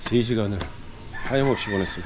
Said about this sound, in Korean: 오늘도 어김없이 새벽 4시에 닭울음소리에 일어났어.